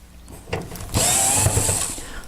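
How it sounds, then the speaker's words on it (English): Power drill backing screws out of the side panel of a heater: a short whirring burst with mechanical rattle, close and moderately loud, with no voices. "remove the 5 screws"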